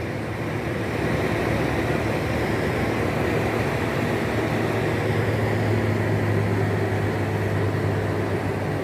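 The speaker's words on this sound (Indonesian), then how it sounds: "Dingin suara mesinnya ya." A truck engine idles steadily and nearby, a low continuous rumble with a faint tonal hum that holds unbroken for the whole stretch, no voices over it.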